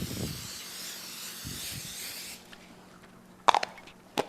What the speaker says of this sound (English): we're just going to coat our pan with a little bit of cooking spray